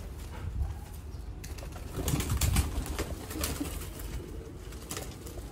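Kept pigeons murmur in soft, low coos with a brief flutter of wings, a moderate, continuous bird presence over faint background noise and no voices.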